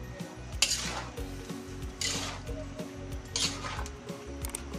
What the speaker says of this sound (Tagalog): At halu-haluin po natin para po mag-mix lahat.